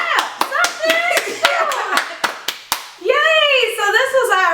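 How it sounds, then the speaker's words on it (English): Hands clap sharply in celebration, about a dozen crisp claps in a quick uneven rhythm mixed with excited voices and cheering, then the clapping gives way to sustained joyful shouting near the microphone. "Clap! Something!"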